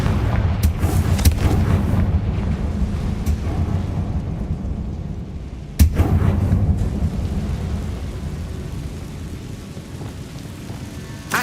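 A Confringo blasting spell from Hogwarts Legacy erupts in rumbling booming explosions, with a sharp blast roughly midway followed by a long low rolling rumble that slowly fades.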